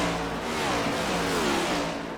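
NASCAR Next Gen Cup cars racing at Watkins Glen in iRacing, a loud, steady blare of several high-revving engines roaring together with shifting pitch, close and constant throughout.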